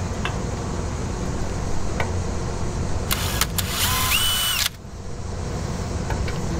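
Power drill boring through metal with a step drill bit while working on a Jeep TJ long arm suspension, a loud whine of about a second and a half that stops abruptly, over steady background noise.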